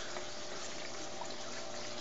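An Eco 633 pump sends water into a fish tank in a basement aquaponics setup, a steady, even rush of flowing water that stays constant and close throughout.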